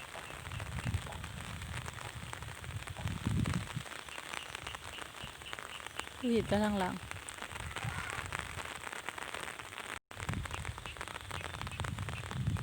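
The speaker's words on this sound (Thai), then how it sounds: "ฝนตก" Steady rain patters across open rice paddy fields, a constant hiss of drops at moderate distance, with a short spoken phrase and a brief vocal sound partway through.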